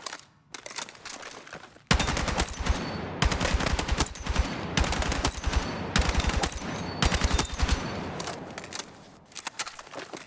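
An LMG-style gun in Battlefield 6 fires loud, rapid sustained bursts, several long strings of automatic fire broken by short pauses, close and dominant with no talk.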